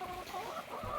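A Silkie chicken on a homestead clucks in short, close bursts over a steady rustle of background noise, with no talking.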